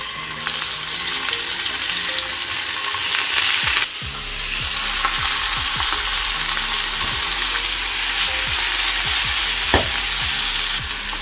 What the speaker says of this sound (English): We heat the pan up again and add a bit more, about a tablespoon of oil, and we start adding the fish in